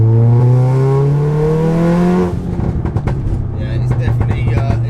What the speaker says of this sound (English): you do need to give it a few revs